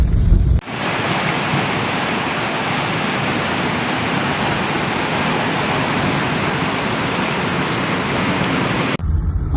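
Floodwater rushes after heavy rain in Najran, Saudi Arabia, a loud, constant roaring wash that starts abruptly and stops just as suddenly near the end.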